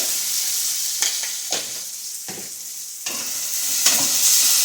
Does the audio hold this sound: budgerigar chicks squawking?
no